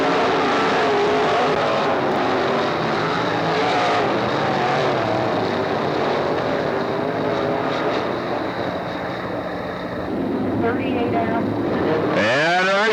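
Race cars thunder around Hickory Speedway in a closing two-lap dash, a dense continuous engine roar with a public-address voice talking over it and a sharp rising whine near the end.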